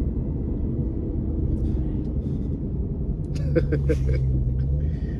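A Dodge Hellcat's engine rumbles low and steady while driving, heard from inside the car, with brief voices talking over it toward the end.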